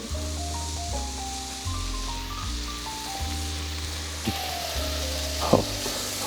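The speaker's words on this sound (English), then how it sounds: "I'm just getting gently stir fried" Steak and noodles stir frying in a pan, a dense steady sizzle with occasional scrape and clatter, close and loud, with background music playing underneath throughout.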